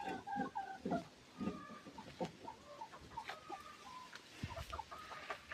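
Several chickens cluck and call close by in a busy, irregular chatter, with no talking.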